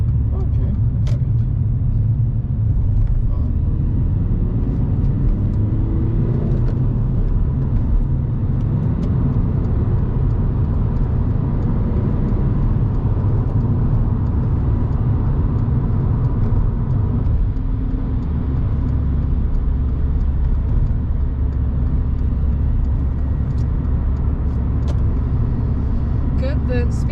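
A car engine runs steadily in third gear during a driving lesson, a constant low rumble and road drone inside the cabin throughout, with people talking over it.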